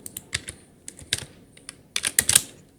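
Code typed on a computer keyboard, irregular bursts of crisp key clicks in short clusters, close and fairly loud with no talking.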